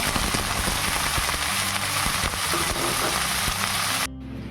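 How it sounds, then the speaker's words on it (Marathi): Cauliflower florets sautéing in about three spoons of oil in a wok, giving a steady, close, dense sizzle with crackles and scraping stirs throughout, ending with a sudden drop to a quieter hiss. "2 ते 3 मिनिटे फ्लावर चांगला परतायचा आहे"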